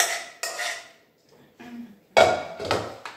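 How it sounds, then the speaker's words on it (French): A spoon scraping and clinking in a bowl while a rice, wheat and avocado salad is mixed, in several separate bursts of knocking and scraping with short quiet gaps between them. "on mélange bien"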